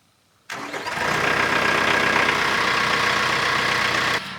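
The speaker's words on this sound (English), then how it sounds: "if he could start the tractor" A tractor engine cranks and catches, then settles into a steady, loud idle running close by on a homestead, with no talking over it.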